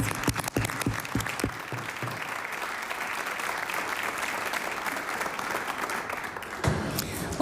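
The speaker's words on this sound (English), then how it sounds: "I ask all of us to give them a huge round of applause" Sustained applause in the House of Assembly chamber: a few sharp claps at first, then a dense, even roar of many hands that holds steady throughout, with a brief voice near the end.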